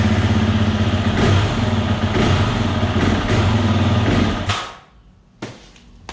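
A 2020 Husqvarna FE 350 motorcycle engine with a fuel filter fault runs loud and close at open throttle, then bogs down and dies away, leaving a few faint clicks and knocks afterward.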